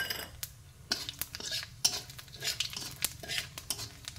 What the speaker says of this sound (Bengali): আর এই যে তেল, সেই মাছ ভাজা তেলের ভিতরে আমি ফোড়নটা দিয়ে দেবো।